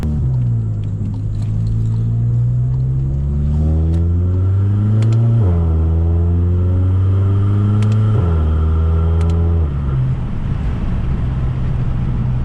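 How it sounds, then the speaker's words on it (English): Hybrid-turbo VW MK7 GTI accelerating hard through several gears, its engine note climbing steadily and dropping at each of three upshifts, with loud, close exhaust rumble throughout and faint whooshing turbo spool on top, no voices. "Get that turbo spool on this morning."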